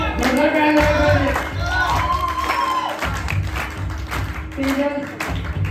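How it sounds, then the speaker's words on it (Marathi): An audience at a Satyanarayan puja gathering in Kotawade, Ratnagiri claps in a loud burst of applause mixed with crowd noise, while an amplified voice carries over the clapping. "जोरदार टाळ्या वाजवा पाहिजे."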